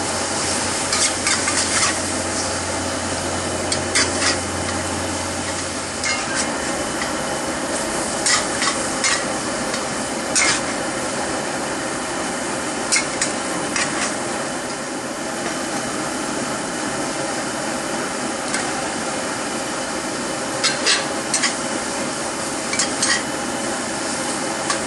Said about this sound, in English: I'm just gonna stir fry this meat real quick.